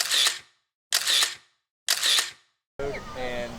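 Three crisp camera shutter clicks spaced about a second apart, close and sharp, followed by a brief bit of nearby talking.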